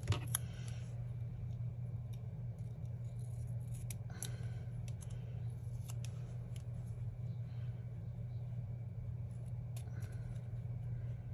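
Scissors snip repeatedly as they trim the white edge off a sticker, with sharp close blade clicks scattered irregularly over a low steady rumble.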